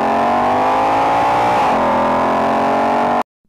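A 2020 Shelby GT500 with a supercharged 5.2-liter cross-plane-crank V8 revs loudly and steadily up close. The pitch dips briefly midway, then holds until the engine is cut off abruptly.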